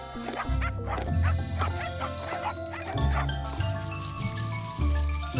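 Cartoon dogs in an animated children's story bark and yip repeatedly over bouncy music, quick rhythmic barks close and clear.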